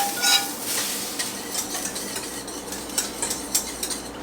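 A utensil stirs hot roux for turkey giblet gravy in a pot, giving steady scraping strokes over a continuous sizzle, close and fairly loud.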